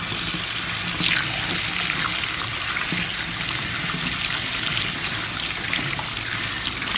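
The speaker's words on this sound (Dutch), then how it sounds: "En dan spoel ik de garnalen onder koud stromend water." Cold water runs steadily from a tap, splashing and trickling over shrimp in a bowl, a continuous hiss close by with no talking.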